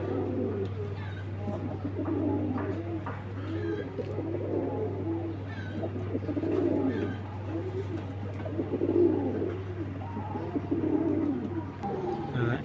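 Giribaz pigeons cooing at a pigeon seller's loft, soft repeated low coos rising and falling over a steady low hum, with continuous background murmuring.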